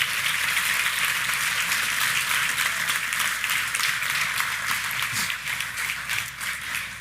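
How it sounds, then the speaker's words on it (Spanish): A church congregation breaks into sustained applause during a sermon, dense steady clapping from many people that fills the room and tapers slightly at the end. "Dale un aplauso al Señor."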